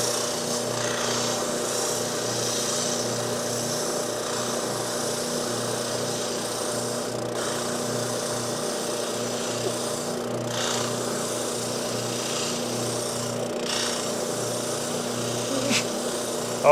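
A spindle sander runs with a continuous steady motor hum while a wooden saw handle is pressed against the drum, adding faint rubbing and a few brief contact bursts.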